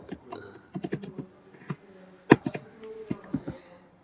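Code is typed on a computer keyboard in quick, irregular clusters of close key clicks, with one sharper louder keystroke partway through.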